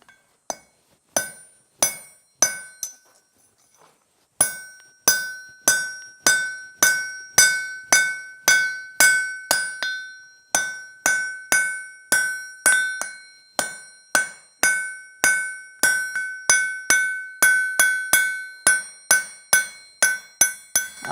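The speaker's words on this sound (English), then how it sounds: "I like to finish out my rivets with some nice hammer blows there" Roughly thirty sharp, ringing metal hammer strikes finishing rivets on blacksmith tongs land in a steady rhythm close by, with a short pause early on and no talking.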